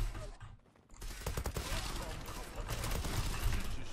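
Rapid bursts of M4A1 assault rifle fire in the online shooter Zula, loud crackling volleys after a short lull, with a voice talking over the shooting.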